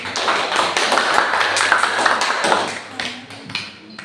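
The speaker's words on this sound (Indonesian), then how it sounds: "jadi berikan aplaus untuk kelompok 2 dulu" Applause from a classroom audience for a presenting student group, a dense patter of clapping hands that holds steady for a few seconds before thinning out with scattered final claps.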